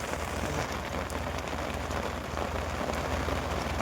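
Rain falls steadily and close by, a dense even patter on surfaces with no letup. No voices can be heard over it.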